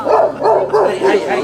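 A dog gives a quick run of close yips and barks in a rhythmic series, with a voice sounding alongside it in a room.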